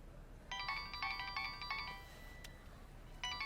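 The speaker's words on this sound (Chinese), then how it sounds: "我接个电话。" A mobile phone ringtone sounds faintly in a quiet room, with bursts of bright electronic tones that pause and then begin again near the end, and no one speaking.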